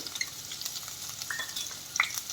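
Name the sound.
chopped onions sautéing in pan for paneer tikka masala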